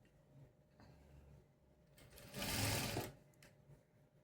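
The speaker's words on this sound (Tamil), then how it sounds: "தைக்கும்போது கரெக்டாக அந்த ஃபேப்ரிக்கை மட்டும்தான் நான் தைக்கிறேனா அப்படின்னு நான் செக் பண்ணி தான் நான் தைக்கிறேன்" Close sewing machine top-stitching fabric while attaching a pocket to a skirt or dress: quiet whirring that rises to a brief, louder burst of fast stitching near the middle, then fades back to low handling noise.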